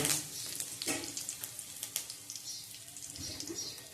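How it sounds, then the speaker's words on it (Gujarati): Curry leaves dropped into hot tempering oil with mace and cloves for a Gujarati chickpea curry crackle and sizzle, a steady close frying hiss with a few sharper spits and no talking. "હવે આપણે આમાં કળી પત્તા નાખીશું।"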